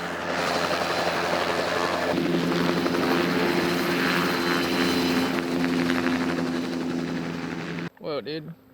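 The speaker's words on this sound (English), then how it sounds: "There's a freaking helicopter." A helicopter flies overhead, its rotor thump and engine drone loud and steady for several seconds before fading, with people talking excitedly nearby at the end.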